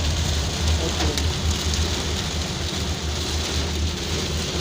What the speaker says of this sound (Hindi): तमाम रास्ते हमें बारिश होती रही।